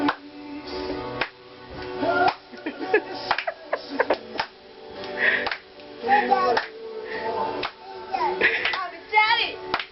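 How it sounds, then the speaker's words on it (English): On a boat in the Whitsundays, people clap along in rough rhythm to dancing, the claps close and irregular, mixed with voices talking and someone speaking throughout. "you've got to join in the clapping"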